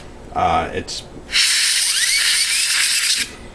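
Compressed air sprays dust out of a PS2 Slim's fan in one long, loud, steady hiss lasting nearly two seconds, after a brief stretch of talk.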